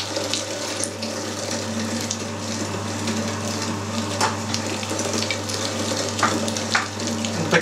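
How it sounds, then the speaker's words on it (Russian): An electric meat grinder minces brisket through a 20 mm plate for Soviet-style smoked salami: a steady motor hum with continuous wet, squelching grinding noise, close and unbroken, with no talk. "Измельчу всю грудинку на нашей решетке с диаметром отверстия 20 мм."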